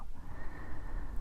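A cart horse neighs loudly and hooves clip-clop in a busy port town. The whinny is continuous and fairly close, with no speech over it.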